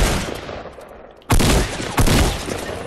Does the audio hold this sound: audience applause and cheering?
no